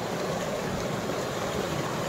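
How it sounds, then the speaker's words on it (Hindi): Fast-flowing river water with big stones in its bed roars as a broad, steady rush, loud and close with no break, and no voices over it. "पानी का फ्लो देखिए कितना तेज है।"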